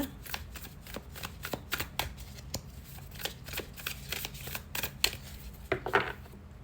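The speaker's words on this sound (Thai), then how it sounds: "ขอสับไพ่ไปด้วยนะคะ" Tarot cards being shuffled by hand, a quick run of crisp riffling slaps and flicks repeating at an irregular pace, close and fairly loud.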